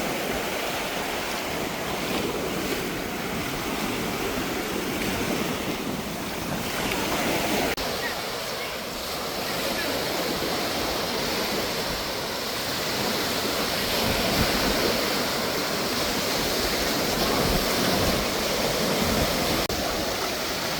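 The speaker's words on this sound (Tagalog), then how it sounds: "malakas ang hangin" Strong wind and breaking waves roar steadily at Boracay beach, a loud, continuous broadband wash with gusty buffeting and no pauses.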